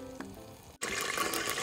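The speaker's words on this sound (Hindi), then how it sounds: "मीट को 5 मिनट के लिए अच्छे से फ्राई कर लें।" Mutton goes into hot oil in a pressure cooker for nihari. After a brief quiet tonal stretch and a momentary gap, a loud, close, continuous sizzle bursts up and keeps crackling.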